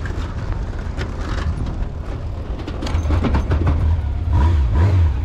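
A Honda Nighthawk 750 motorcycle pulls away in second gear, its engine note rising steadily and growing louder as it accelerates, with a deep continuous rumble and wind noise throughout.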